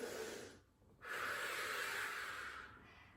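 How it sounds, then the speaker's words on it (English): A person breathes in during a backbend spinal extension exercise, a close, quiet airy inhale lasting over a second after a brief pause, at low level. "as you take a breath in"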